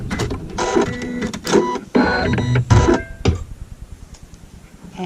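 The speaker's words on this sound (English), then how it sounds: "I have changed to regular thread, and I'm stitching my seam." A sewing machine stitches a fabric seam in regular thread, a close, fast mechanical whirring that comes in several short bursts with brief pauses and ends after a few seconds, with no talking.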